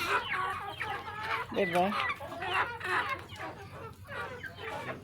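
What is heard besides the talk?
chickens clucking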